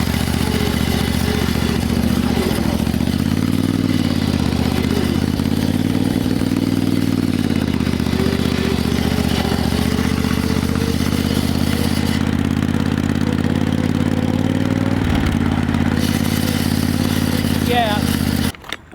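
The Ford Wheeler's engine runs steadily close by with a rough, clattering drone, while its noisy belt pulley adds a scraping, whining edge over the sustained rumble; a person talks over it throughout.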